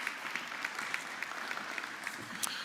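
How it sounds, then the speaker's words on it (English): Audience applause at a science week closing ceremony for the speakers who just presented, a steady, moderately distant patter of many hands clapping that carries on evenly through the moment. "round of applause for our speakers right here"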